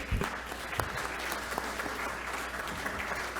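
A forum audience applauds a speaker at a Peruvian congressional forum hosted by the Perú Libre bench: steady, dense clapping from a roomful of people that holds at an even level from start to finish.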